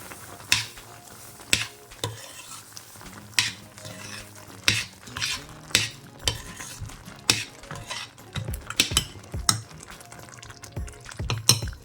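Spice powders being stirred into simmering pork for a Kerala-style Alleppey pork roast, with sharp, irregular clinks and scrapes of a spoon against the pan over a low bubbling simmer, close and fairly loud, with no talking.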